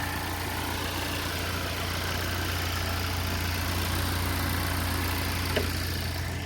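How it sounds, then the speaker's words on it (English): A repaired car engine idling: a steady, even low hum with constant mechanical drone and no revving, close and continuous throughout, with no voices. "Car sounds fine."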